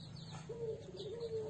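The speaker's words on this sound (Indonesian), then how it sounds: "Ini merpati pos ini" A single adult male homing pigeon in a cage coos softly and steadily, a low warbling call held for about a second over faint background hum.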